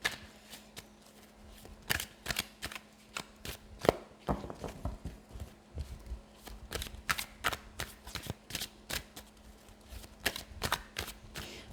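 Tarot deck (Ciro Marchetti Tarot Grand Luxe) being shuffled and cards drawn, a long run of close, crisp riffling slaps and snaps in irregular rapid bursts with a low steady hum underneath.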